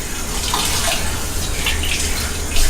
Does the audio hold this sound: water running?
yes